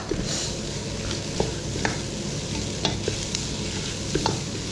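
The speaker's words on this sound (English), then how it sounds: "we want to fry out those spices. We give them this good old toss for about a minute" Ground coriander and cumin fry in a hot pan and are tossed about, a steady close sizzle broken by light scrapes and clicks of the spoon.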